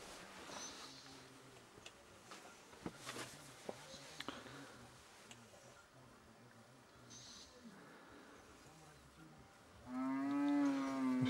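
A calf and cattle low inside a rudimentary hut on Mount Nyiru, where a fire burns; a loud moo rises near the end over quiet indoor rustle and faint background sounds.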